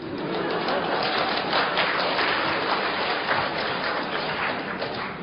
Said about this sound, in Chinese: 要不你也不会鼓掌这么热烈